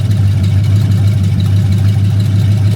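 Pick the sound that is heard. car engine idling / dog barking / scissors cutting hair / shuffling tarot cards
car engine idling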